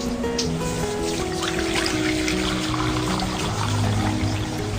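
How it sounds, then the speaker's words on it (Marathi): Water pours steadily into a wok sitting on a gas stove for noodle boiling, a continuous close splashing trickle that lasts throughout with no talking. "गॅसवर कढई ठेवलेली आहे. मी आता पाणी ओतून घेते."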